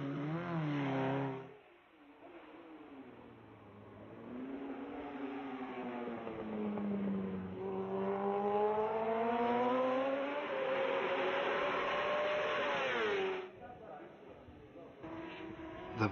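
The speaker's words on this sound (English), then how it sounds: "Kawasaki's ace, Gary McCoy, tried out the improved Ninja ZX RR." A Kawasaki Ninja ZX-RR MotoGP race bike revs hard, its engine pitch rising and falling through repeated sweeps, loud and close.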